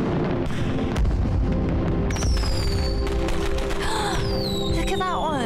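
Fireworks from the animated show Helluva Boss whistle and boom in a dense, loud run over a steady music-filled soundtrack, with whistling rockets rising near the end.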